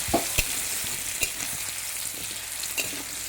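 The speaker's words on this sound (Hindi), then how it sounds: "मैं आलू को फ्राई करके डालने वाली हूँ।" Potatoes fry in hot oil for a mutton curry, a steady, close crackling sizzle with a few sharp pops and stirring clicks throughout.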